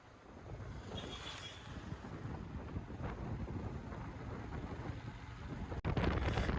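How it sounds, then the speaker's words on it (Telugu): Strong wind blowing across open country lined with trees and windmills near Kanyakumari, a steady loud low rumble of wind buffeting the microphone throughout, with a brief sharp knock near the end. "ఇక్కడ గాలి కూడా చాలా బాగా వీస్తుంది"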